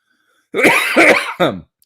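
A close, loud cough and throat-clearing burst in three quick bursts into a live radio broadcast microphone, then silence.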